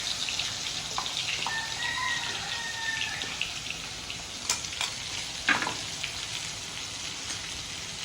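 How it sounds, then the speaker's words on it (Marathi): Ground masala paste sizzling and frying in hot oil for a stuffed brinjal dish, a steady crackling hiss with a few louder spits and stirring clinks, close and continuous with no talking. "ते चांगलं गरम झालं की आपण लगेच हे वाटण टाकून घेऊ त्याच्यामध्ये"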